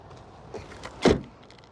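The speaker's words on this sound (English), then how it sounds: "Oh, nice and heavy. Actually, very nice sounding door." The door of a 2025 Honda Pilot Touring swinging shut, a single solid, heavy thud near the end after a few faint handling clicks, close and alone with no talk.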